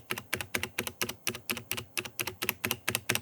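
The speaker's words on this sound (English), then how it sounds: "Let's listen to that space bar again." Space bar on a Hexgears K520 keyboard with Kailh Box switches, pressed over and over in a quick, even rhythm, each a crisp, close thock with nothing else heard.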